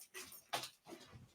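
Dogs whimpering indoors with a few faint, short, high whines and soft rustling, quiet and close, with no speech.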